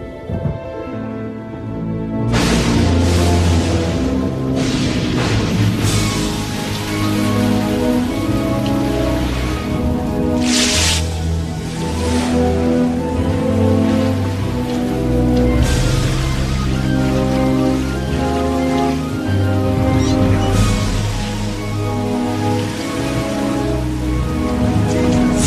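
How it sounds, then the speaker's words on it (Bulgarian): A storm on a lake, in a children's Bible film: heavy rain pours steadily and loudly, drumming on surfaces in a dense, unbroken roar with occasional low rumbles. "Бурята ще ни потопи."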